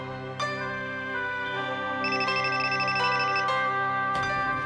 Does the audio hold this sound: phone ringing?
yes